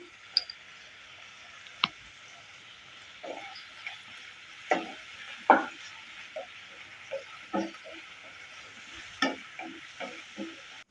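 Peas and onions sauté in a pan for semiya kichadi: a soft background sizzle broken by scattered clicks and scrapes of stirring.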